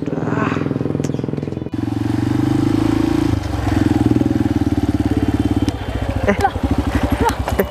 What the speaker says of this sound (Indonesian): jangan bilang motor kamu lagi mogok nih